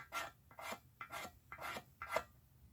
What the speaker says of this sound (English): Shave it. They used to call it Maya dust. It's just fat wood shavings.